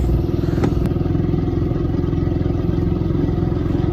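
A motorcycle towing a cart through muddy village lanes after rain runs at a steady, loud engine drone with a constant rumble and a couple of sharp clicks near the start.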